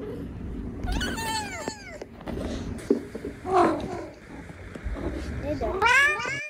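A cat meows repeatedly at close range, with several drawn-out, rising and falling cries spread across the clip, while people talk around it.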